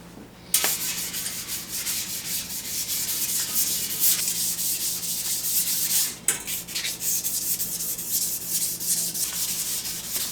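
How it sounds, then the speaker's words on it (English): Wet sanding a lugged bicycle frame by hand, a continuous close, hissing, abrasive rub in steady back-and-forth strokes with brief pauses and no talking. "time to get back onto wet sanding this bike."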